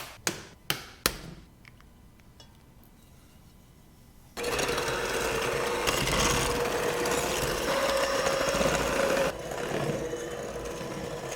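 Egg yolks and sugar for tiramisu are beaten with an electric mixer: a few sharp taps come first, then the motor starts into a loud, steady whir that continues to the end.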